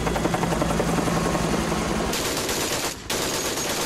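Rapid gunfire and chopper-like machine noise from an anime battle with military vehicles, loud and continuous with dense bursts, briefly dropping out near the end before resuming.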